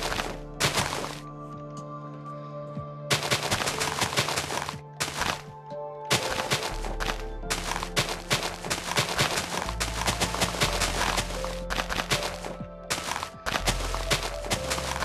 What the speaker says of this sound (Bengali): এরপরে এগুলোকে মাইন করে ফেলবেন ভিতরের ব্লকগুলোকে।